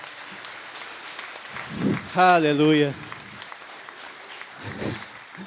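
A church congregation applauds at a worship service: a continuous patter of clapping fills the room throughout, moderately loud, while a voice briefly calls out over it.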